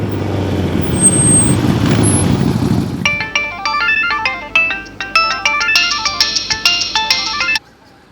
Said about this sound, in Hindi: फोन लगाइए, तुरंत करिश्मा सिंह को फोन लगाइए